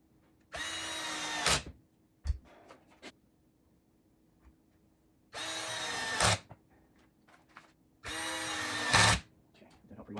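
A power drill drives screws into an Adirondack chair in three strong whirring bursts of about a second each, separated by pauses filled with faint clicks and handling noise.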